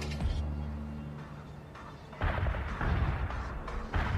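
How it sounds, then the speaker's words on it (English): Heavy artillery barrage in the World in Conflict strategy game: a low rumbling wash of distant shell impacts and booms that swells into dense, continuous crashing. "Heavy artillery barrage inbound."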